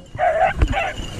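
A dog gives two short, high barks in quick succession, close by, with a soft thud between them.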